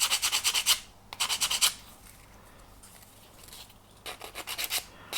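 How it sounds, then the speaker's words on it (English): Hand sanding of a laser-cut wooden ship model part with 150 grit sandpaper, removing laser burn: rapid rasping back-and-forth strokes in two bursts, a quiet pause, then a third burst, close and fairly loud. "150 grit here, and we're just going to take that laser burn down so that you can see that nice natural colour"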